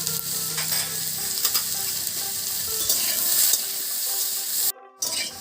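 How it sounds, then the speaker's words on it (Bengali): Salted potato pieces fry in hot oil with a dense, continuous sizzle and frequent scraping stirs close by, briefly dropping out near the end before the crackle resumes. "আমি আলুর টুকরোগুলোকে ভেজে নেব।"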